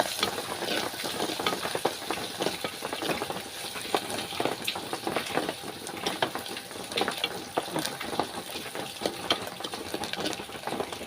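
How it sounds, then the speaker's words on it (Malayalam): Dried red chillies and curry leaves fry in hot oil for a Kerala-style ginger curry, a dense, close crackling sizzle that stays steady throughout. "വറ്റൽമുളക് ഒന്ന് മൂത്ത് വരട്ടെ. കറിവേപ്പിൻ്റെ ഇല"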